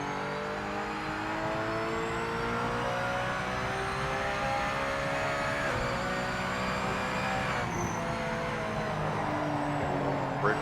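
A race car in Project Motor Racing coasts through a turn, its engine droning steadily with shifting pitch over ten seconds, loud and continuous, no talk.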